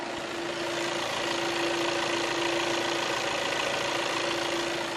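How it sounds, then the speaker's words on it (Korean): A German SUV from 2018 idles steadily up close in good condition, a constant droning hum with a faint whine, unchanging throughout. "먼저 엔진 소음부터 체크해 보도록 하겠습니다."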